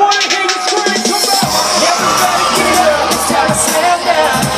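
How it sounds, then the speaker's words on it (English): Large live concert crowd at a radio birthday bash in Boston, roughly 35,000 people, screaming and cheering loudly and continuously over amplified music, with shouts and whoops rising throughout. "now I wanna hear you scream"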